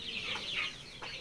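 A desi hen gives a few quick, shrill clucks close by against the faint background chatter of a poultry flock, with no voices.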